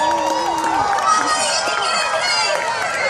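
A crowd cheers and shouts steadily for Hopper the cheetah during a cheetah run at San Diego Safari Park, a dense, continuous wash of voices with whoops rising throughout.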